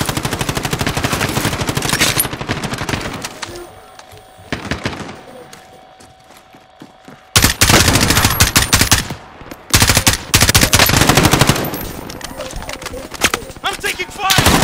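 Rapid automatic gunfire from Call of Duty Warzone erupts in loud, dense bursts, broken by a quieter lull before heavy firing resumes, with voices heard among the shots.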